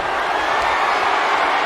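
Capacity arena crowd in the WWE 2K26 wrestling game, a dense, loud roar of cheering and murmur filling the whole moment without a break.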